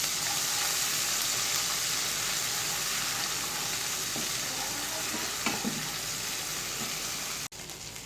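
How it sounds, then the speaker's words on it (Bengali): A ground spice paste with mace sizzles steadily in a pan while being cooked down for a katla fish curry. The frying hiss is continuous and close, with a few faint stirring knocks, and it drops away briefly near the end. "মশলাটাকে কষিয়ে নিতে হবে।"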